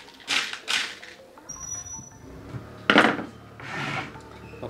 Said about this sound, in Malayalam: അതിന് പറ്റിയ രണ്ട് സ്ക്രൂ നമുക്കവിടെ ഇട്ട് കൊടുക്കാം.